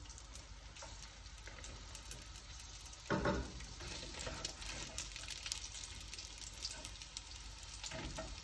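Okra searing in warm olive oil in a pan, crackling softly with a brief louder burst of sizzling as the pods go in, then a steady faint fry.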